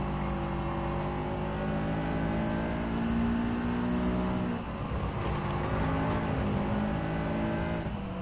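A racing car engine in Gran Turismo 7 hums and whines steadily during a race, the pitch sliding down and back up as it shifts and accelerates, a continuous moderate drone without talk.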